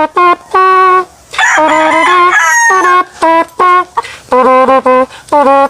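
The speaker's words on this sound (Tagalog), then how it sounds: "Tingog ng manok" Loud, close rooster crowing, repeated several times in quick succession with long drawn-out calls and short breaks between.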